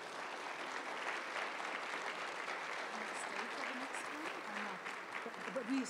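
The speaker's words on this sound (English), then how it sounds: "let's give them a round of applause" An audience at a live-streamed conference plenary gives a steady round of applause as a discussion group leaves the stage, with scattered voices talking near the end.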